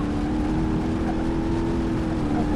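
Damaged car in BeamNG.drive, its front end wrecked, accelerating hard down a straight with a steady, loud, droning engine roar that barely changes over a few seconds, with no talking.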